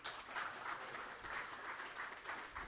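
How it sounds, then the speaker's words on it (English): Audience applause fills a talk on the philosophy of holy water, a steady, dense wash of many hands clapping in waves, faint and distant throughout. "applause to all of you"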